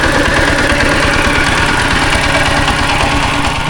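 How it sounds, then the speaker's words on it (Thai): A Thai-made two-wheel walking tractor engine runs steadily up close, a loud continuous chugging idle with rapid mechanical knocking throughout, no talk. "อันนี้คือรถไถของฝั่งไทย ที่มาขายอยู่ลาวเฮาก็จะเป็นรถไถแบบซี่แหละ"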